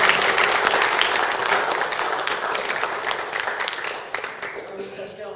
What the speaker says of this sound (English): I just think you should give me a round of applause that I did.